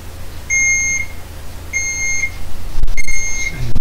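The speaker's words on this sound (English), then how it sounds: "So I will hear the beeps and then I will switch on." A spirit box generator switching on at home gives three evenly spaced electronic beeps of about half a second each, loud and close, followed by a few soft clicks and knocks.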